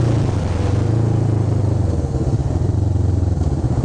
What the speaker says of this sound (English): Got a car trying to keep up with me.